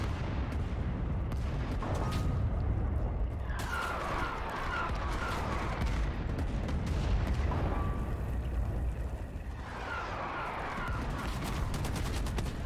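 Sustained machine gun fire rattles through a Rising Storm 2: Talvisota Winter War battle, with dense overlapping bursts and distant booms rolling on continuously, loud and unbroken.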